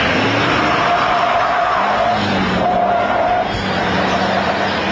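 A stock diesel 4x4 truck making a quarter-mile run, a loud sustained engine roar with a shifting drone and rising pitch, close and steady with no talking.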